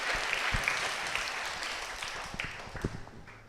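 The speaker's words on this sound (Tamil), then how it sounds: "அவர்களுக்கு ஒரு கரகோஷம் கொடுப்பி எங்களுடைய நன்றியை தெரிவித்துக் கொள்ளுங்கள்." A church congregation applauds in a sustained burst of clapping, filling the hall and slowly thinning toward the end, with no voices over it.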